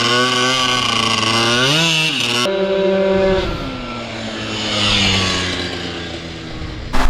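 A Honda Elite scooter fitted with a 120cc stroker engine and a replaced coil accelerates hard, its loud buzzing two-stroke note climbing in pitch, dipping at a shift and climbing again, close and with no talk.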